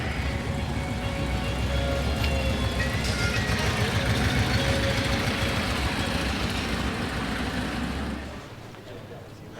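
Air-cooled cars, Porsche 356s and Volkswagens among them, idle and roll in at a cars and coffee show in Altadena, giving a steady low engine rumble under outdoor bustle that drops off near the end.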